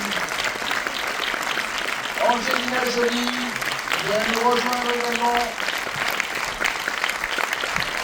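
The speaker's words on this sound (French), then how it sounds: "Applaudissez chaleureusement, s'il vous plaît" Audience applause at the Paris premiere of the film Couture, steady and dense throughout, with an announcer's amplified voice speaking over the clapping in the middle.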